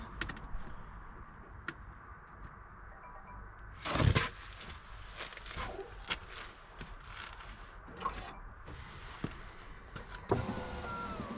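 A Land Rover Discovery 5 electric window motor whirs in short bursts after a window regulator repair, with a louder clunk partway through and faint background noise between runs.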